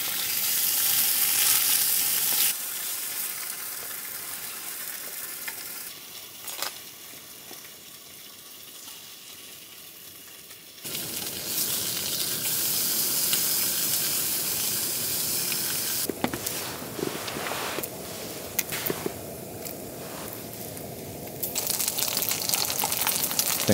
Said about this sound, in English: with the delicious scent of sizzling bacon